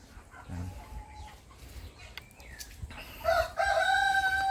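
Naked neck chickens on a farm, with a rooster crowing loudly and clearly near the end amid softer clucking and scattered background farmyard noise.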